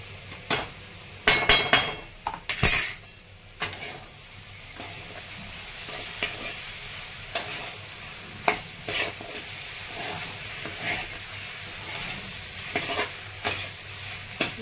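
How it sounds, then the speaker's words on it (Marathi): Curd being stirred into frying okra for dahi bhindi, with a spoon scraping and clinking against the pan in repeated strokes over a low, steady sizzle, close up with no talking. "आता टाकणार आहे दही"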